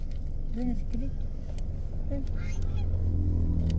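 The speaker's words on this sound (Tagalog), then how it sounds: "Hindi yan pato. Itik yan, itik." Several honking duck calls sound nearby, with people talking over them and a low engine hum underneath.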